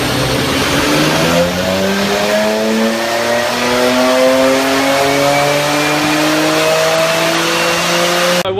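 A BMW 335i on stock twin turbos runs on a dyno, its engine note climbing steadily in a long sustained pull, loud and close, with no speech.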